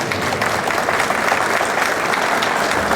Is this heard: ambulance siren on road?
no